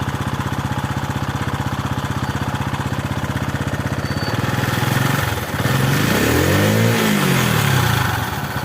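A TVS XL100 BS6 moped engine, just fitted with a new temperature sensor, runs with a fast, steady putter close by, then rises into a brief throttle blip and settles back again.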